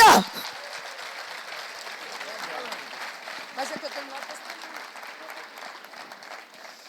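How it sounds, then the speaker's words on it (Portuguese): Church conference audience applauding, a dense burst of clapping that starts loud and then continues as steady, softer applause throughout, with voices mixed in the crowd. "aplaude o Senhor, aleluia."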